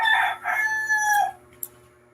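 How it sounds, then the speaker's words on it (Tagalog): Rooster crowing nearby, a loud drawn-out cock-a-doodle-doo with strong harmonics that fades out, followed by a short faint chirp. "Ayan na naman po yung mga manok."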